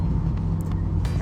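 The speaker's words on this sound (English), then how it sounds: "The motor is a Corvette" A scratch-built race car with a Corvette engine drives on a race track, a deep steady engine rumble holding close and loud throughout the short stretch.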